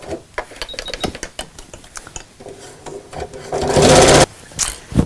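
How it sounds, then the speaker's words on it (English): A domestic sewing machine sews long basting stitches around the top of a quilted shopping bag, with short bursts of rapid close stitching between fabric rustling and handling noises, ending in one longer loud run. "Then we'll literally sew all the way around the top, really close to the edge"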